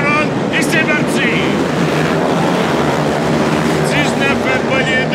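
A steady, loud roar of 19 Super Quad racing engines running together at a race start at the Grand Prix de Trois-Rivières, with a few higher whining revs and a voice speaking briefly over it.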